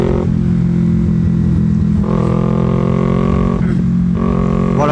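A carbureted Kawasaki Ninja 250 motorcycle while riding, its engine holding a steady buzzing note with several rising revs between gear changes, close and loud, no talk over it.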